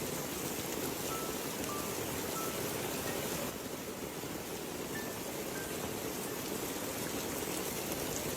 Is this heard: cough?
no